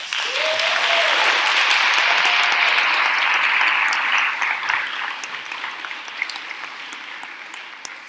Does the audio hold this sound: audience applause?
yes